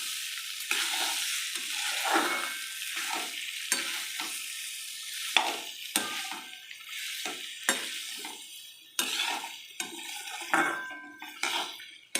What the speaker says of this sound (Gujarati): બટાકા નાખીને બટાકાને આપણે સરસ રીતે હલાવી લઈશું